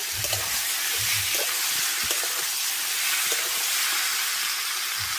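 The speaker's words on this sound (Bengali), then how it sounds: "এবার যে আলুগুলো ভেজে রেখেছিলাম সেগুলো আমি দিয়ে" Fried potatoes go into a pan of sizzling fish curry, a steady close hiss of frying with soft low thumps and scrapes of stirring beneath it.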